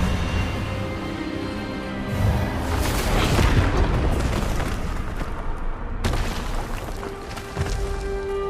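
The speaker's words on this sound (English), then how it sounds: "Expelliarmus!" Expelliarmus spell blast in the video game Hogwarts Legacy: a loud, booming explosive burst swelling around the middle, followed by a second sharp crack and a lingering rumbling tail.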